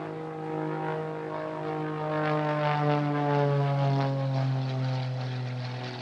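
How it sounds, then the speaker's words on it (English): A propeller plane's engine roars with a buzzing, rising and falling pitch as it performs aerobatic maneuvers overhead at an airshow, swelling louder in the middle before easing off. "Great noise from this propeller as he performs these maneuvers."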